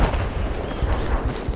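Heavy cannon fire in the video game Battlefield 4, during naval strike multiplayer: a loud booming blast with rumbling low-end tail and scattered echoes, close and dense, with no voices over it.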